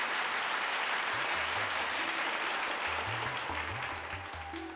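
Audience applause at a Deusi performance in Nepal, a loud, dense roar of many clapping hands sustained throughout and tapering slightly at the end, with low musical notes playing underneath.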